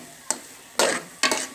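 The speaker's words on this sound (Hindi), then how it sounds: "इसे हम 2 से 3 मिनट तक अंडे को अब इसी तरह भूनेंगे" Eggs frying and being stirred in a pan for carrot halwa, three short bursts of sizzling and scraping separated by a quiet hiss.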